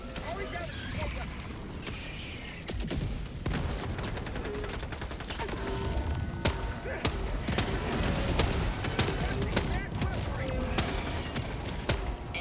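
Rapid gunfire from a Helldivers 2 sentry turret, with dense, continuous bursts of shots and booms filling the scene while a voice talks over the game action.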